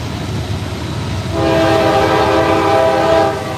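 A freight train with a BNSF locomotive passes in Lilly, Pennsylvania, a rumbling approach giving way to a loud, sustained multi-tone horn blast over the rolling rail noise, heard close and without talk.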